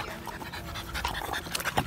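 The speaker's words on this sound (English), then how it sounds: "Yeah, they're like French, regular bulldogs." A bulldog pants close by in quick, rhythmic breaths, with no speech.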